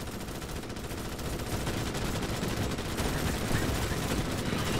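Continuous sustained gunfire in Starship Troopers: Extermination, a dense rattling roar of overlapping automatic weapons that builds slightly in loudness, heard without clear speech.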